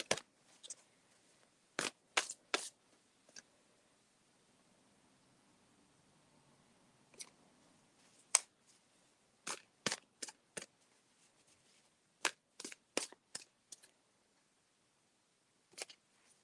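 A deck of oracle cards is shuffled in short, crisp riffling bursts separated by quiet gaps, faint and close in an otherwise silent room.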